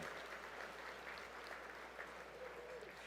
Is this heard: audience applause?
yes